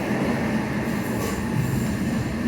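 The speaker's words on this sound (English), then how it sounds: "There's the Southwestern Railway services." A South Western Railway train passing near Battersea Park, heard as a steady, loud rumble of wheels and carriages that holds an even level throughout with no voices.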